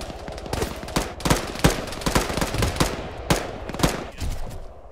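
Automatic gunfire in the military shooter Arma 3, a string of sharp, loud bursts and single shots in irregular rapid clusters, close and dominant with no talk.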